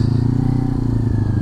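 A Kawasaki Ninja 400 motorcycle engine runs steadily up close, a loud continuous low drone with a faint rising whine, no speech over it.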